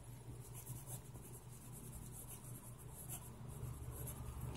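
Medium-nib TWSBI Eco fountain pen writing on paper, a faint, close, continuous scratchy rubbing with small strokes and pauses, heard alone in a quiet room.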